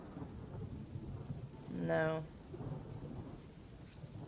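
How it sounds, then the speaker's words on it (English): Thunder and steady rain in the video game Castle Flipper: a constant patter of rain with one deep rumble of thunder swelling in the middle, then fading back into the downpour. "I keep trying to change it to not rain"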